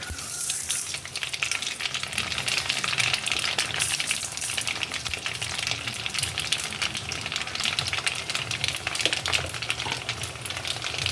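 Mustard seeds frying in hot sesame oil give off a steady, soft crackling sizzle at close range, continuous and fairly quiet, with no talking.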